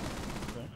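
Rapid automatic gunfire in the video game Rainbow Six Siege, a dense continuous burst at close range with a faint voice underneath.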